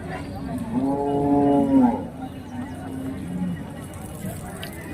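Bulls at a busy rural cattle market give a loud, drawn-out moo close by, followed by a fainter lowing, over a constant crowd murmur and shouting voices.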